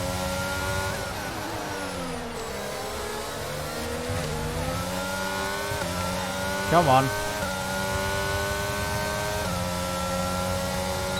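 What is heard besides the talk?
Formula 1 car engine accelerating, from video game F1 22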